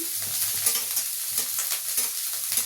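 Winter vegetables with green peas sizzle in a pan, a close, continuous frying hiss broken by quick stirring scrapes and clatter throughout.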